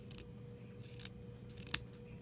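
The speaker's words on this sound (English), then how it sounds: "just snip the corners" Scissors snip the corners of sewn fabric: a few quick, soft cuts close by, one sharper snip standing out, against a quiet room with no talking.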